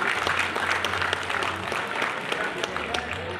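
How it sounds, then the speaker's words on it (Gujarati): A hall audience at a Prajapati community awards ceremony gives loud, sustained applause. Many overlapping claps form a dense, even roar through the whole stretch, with a low hum underneath. "જોરદાર તાળીઓથી વધાવીએ"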